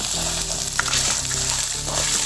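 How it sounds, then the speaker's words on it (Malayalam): Chopped tomato, tamarind and onion sauté in a pan for a Kerala fish curry, giving a moderate, even sizzle with a low steady hum underneath and occasional soft stirring clicks. "എല്ലാം കൂടി നന്നായിട്ടൊന്ന് വഴറ്റിയെടുക്കാം"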